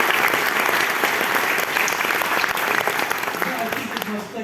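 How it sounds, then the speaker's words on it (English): Audience applause at a tribute to a biography's author: dense, sustained clapping from a crowd, loud and steady throughout, easing slightly toward the end. "Let's give him a round of applause."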